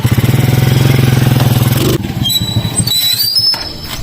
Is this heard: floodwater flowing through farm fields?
no